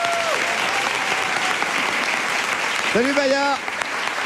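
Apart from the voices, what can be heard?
studio audience applause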